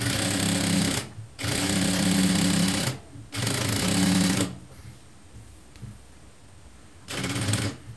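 A sewing machine stitches a straight-cut blouse cup in three loud bursts of rapid running, separated by pauses and a longer quiet stretch before a final short run.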